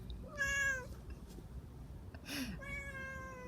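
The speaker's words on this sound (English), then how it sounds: "There's a cat." A cat meows twice, each a clear rising-and-falling call, close but soft, with a faint low chirp between them over a quiet room hum.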